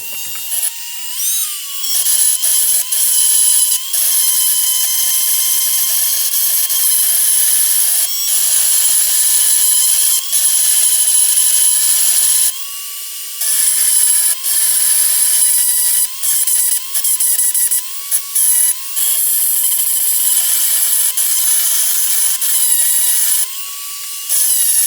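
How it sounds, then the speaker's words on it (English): A rotary tool grinds and sands the inlet timing on a Piaggio moped crankshaft, a loud, continuous high-pitched whine held close with brief dips and pauses. "I've ground the new inlet timings and sanded it a bit to smoothen it out"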